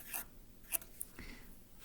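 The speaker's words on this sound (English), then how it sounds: "so I'm just going to write that down once." Faint scratching of a pen writing numbers by hand, a few short strokes and taps spaced unevenly in a quiet room.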